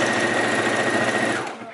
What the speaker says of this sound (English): I'm just hemming right now,